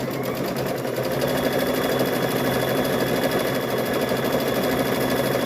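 A sewing machine runs a quarter-inch seam across fabric pieces for quilted bowl covers, giving a steady, continuous motor whir and rapid needle chatter that holds even and close throughout, with no talking.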